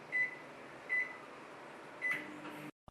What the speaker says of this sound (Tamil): இப்போ நம்ம மைக்ரோவேவ்ல 1 minute 20 அல்லது 30 செகண்ட்ஸ்க்கு வச்சுக்கலாம்.